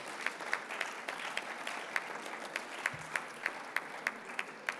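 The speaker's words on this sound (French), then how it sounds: "Je crois que vous pouvez les applaudir parce qu'ils font ce travail bénévolement." An audience at a political party congress in Malta applauds the volunteer security staff. The clapping is steady and moderate, with a few sharper claps standing out near the front.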